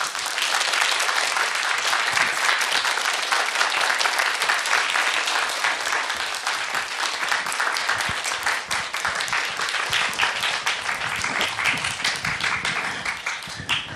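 An audience gives sustained, dense applause at a Korean film event with the directors of Frozen 2 and Train to Busan, and the clapping continues loudly and evenly throughout.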